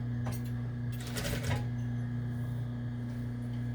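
A sewing machine runs a continuous hem along a folded edge of a Lady Liberty costume, giving a steady close mechanical hum with a brief burst of faster needle rattle near the middle.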